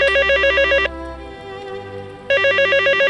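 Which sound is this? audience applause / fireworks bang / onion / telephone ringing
telephone ringing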